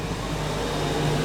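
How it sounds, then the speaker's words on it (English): A noisy golf cart drives along a residential street, a steady broadband motor rumble and whine that stays even throughout, heard alone without talk. "And what you just heard is a golf cart."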